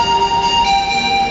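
A loud, sustained electronic chime melody plays over a metro station platform in Osaka as a train arrives, with steady tonal notes ringing above a low hum of the station.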